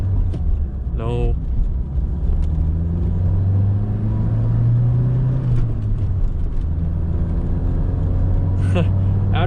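A 1984 Pontiac Fiero engine rumbles steadily from inside the car while driving, a low drone that swells briefly as it pulls along, with a few faint clicks and knocks in the cabin.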